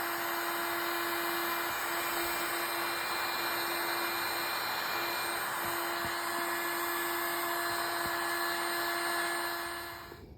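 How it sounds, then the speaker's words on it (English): A heat gun blows steadily while shrinking heat-shrink tubing over a wire splice for a 2004 Dodge Ram 2500 Cummins 5.9 cruise control repair, a loud, even whooshing whine close by that cuts off at the end. "Heat shrinking that baby on there."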